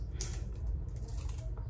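Scissors snip into and cut open plastic packaging for an unboxing, giving a run of quick, close clicking snips over a steady low background rumble.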